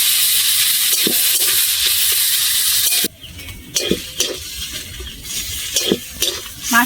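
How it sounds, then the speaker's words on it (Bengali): Boiled rohu fish fries loudly in a pan with a dense sizzle that stops abruptly partway through, leaving repeated scraping and clattering stirs against the pan. "মাছটা ভালো করে ভাজা হয়ে গেছে"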